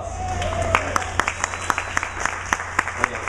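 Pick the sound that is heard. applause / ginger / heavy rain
applause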